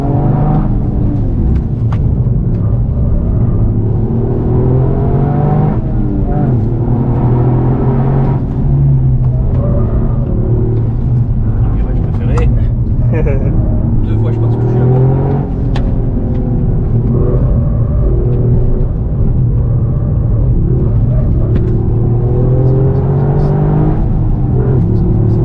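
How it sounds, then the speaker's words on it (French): Toyota GR Yaris with a 1.6-litre three-cylinder engine of about 260 horsepower and a manual gearbox, driven on a circuit in Réunion: a loud, continuous engine drone rising and falling through gear changes and revs, heard from inside. "C'est un 3 cylindres, donc niveau sonorité c'est pas exceptionnel"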